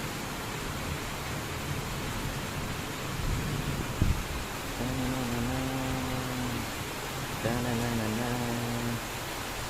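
Heavy rain pouring in Howrah, Kolkata, a dense constant hiss of downpour filling the air, with someone speaking briefly over it and a faint tonal hum in the background.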